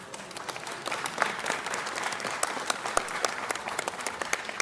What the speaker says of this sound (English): Let's give Governor Choi a round of applause.